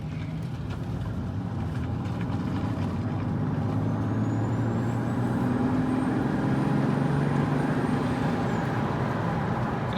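A MKIV Toyota Supra drives uphill on a gravel road, its engine a steady low drone at part throttle with a faint turbo whine rising and fading over tire crunch, loud and continuous throughout.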